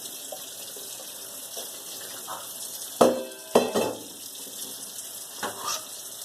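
Tap water running steadily over broccoli in a large colander in a kitchen sink, a constant hissing stream broken by a few louder splashes and clunks as the florets are shaken.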